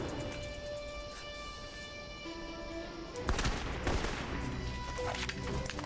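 Gunfire in Alpha Protocol, bursts of shots and impacts over a constant game soundtrack, growing denser and louder in the second half.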